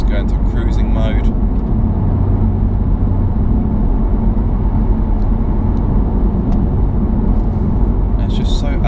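A BMW M4 Competition driven in Sport Plus mode gives a steady, loud engine and road drone that runs throughout, with a person talking over it at the start and end.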